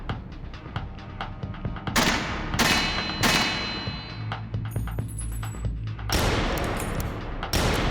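Gunfire comes from a character named Victor shooting in the video game Kathy Rain 2. Loud, sharp volleys hit in separate bursts, with short gaps and softer clatter between them.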